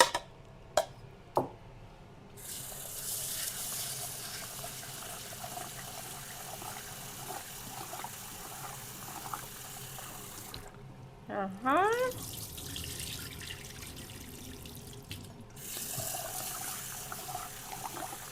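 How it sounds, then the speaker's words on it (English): Tap water runs steadily into a bowl of rice being washed for Danish risalamande, a broad hiss with brief clatters at the start, gaps where the flow stops, and a passing voice mid-way. "I like to wash my rice before I cook it"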